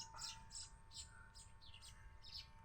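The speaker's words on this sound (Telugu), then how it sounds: "అన్ని స్పారోస్ అండి ఇవి" Sparrows chirp in a tree among farm fields, giving faint, rapid repeated tweets from several birds at a distance.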